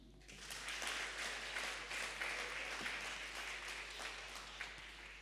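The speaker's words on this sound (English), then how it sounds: "let's clap for our mom." Church congregation applauding together during a service, a sustained wash of many hands clapping at moderate distance, fairly faint and steady for several seconds.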